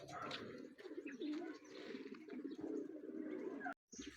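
Racing pigeons at a loft during a speed-bird race in San Manuel, Pangasinan, coo in soft, repeated murmurs over a busy outdoor background, with faint voices and a brief dropout near the end.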